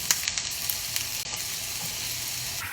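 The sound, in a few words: onions and squash sizzling in hot oil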